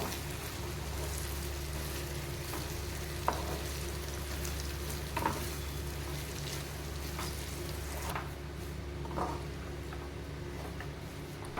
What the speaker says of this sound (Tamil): நல்லா நம்ம அந்த நெய்யிலேயே ரவையை நல்லா வறுத்துக்கணும்